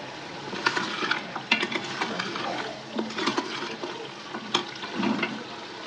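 Goat trotters sizzle as they are fried with yogurt in a pan, with a steady frying hiss and repeated stirring scrapes of a spoon, close by and without talk.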